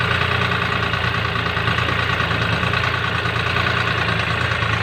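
Chinese tractor engine pulling along rough off-road ground in raised second gear, a steady close mid-to-low rumble with constant vibration throughout, no voices.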